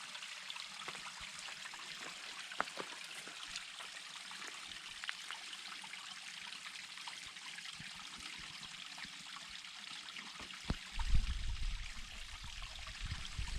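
A stream trickles steadily on the Vancouver Island Trail while drinking water is collected, a soft continuous watery wash with faint clicks and a brief louder splash near the end.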